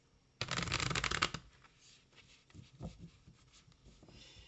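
Lovers Oracle cards being shuffled, a brisk riffling burst of about a second up close, followed by softer rustles and slides of the deck.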